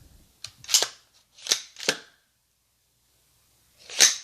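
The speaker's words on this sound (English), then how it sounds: "First of all, we gotta clear the gun." A DSArms AR-15 rifle is cleared after its magazine comes out: a sharp metallic snap, then the charging handle is racked back and forward in two quick clacks, and after a pause another crisp click, all loud and close with no talking.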